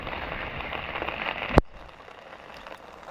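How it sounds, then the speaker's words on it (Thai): Steady rain patters on surfaces in Luang Prabang, Laos, a dense hiss broken by one sharp crackle midway, after which the downpour carries on softer and more distant. "ฝนตกเนาะ"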